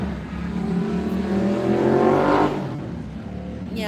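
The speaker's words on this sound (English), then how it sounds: "Yeah, it was a noisy motorcycle, Max." A loud motorcycle roars past close by, its engine note swelling to a peak and then fading as it moves away, heard outdoors with no one talking.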